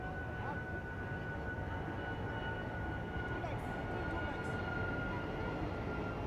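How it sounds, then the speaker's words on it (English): Airplanes flying in and out of RDU airport make a steady, broad roar that holds at an even level from start to finish, with no breaks. "familiar sound that you're hearing right now. So those planes flying in and out of RDU"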